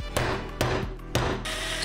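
Three sharp metallic hammer strikes on a center punch marking metal sheet, evenly spaced about half a second apart, close and clear with a faint ringing after each.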